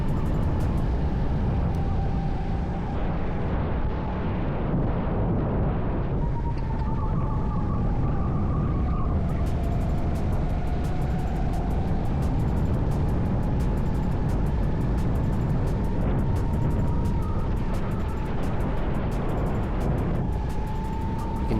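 Racing kart engines buzzing through a league race at Dallas Karting Complex, a continuous close droning whine that rises and falls in pitch through corners and straights, with no talk.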